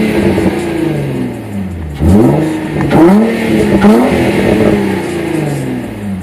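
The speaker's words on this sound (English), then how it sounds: "let's hear the exhaust" Infiniti G35 exhaust revving in bursts, the engine climbing sharply around two, three and four seconds over a steady idle, loud and close with no talking.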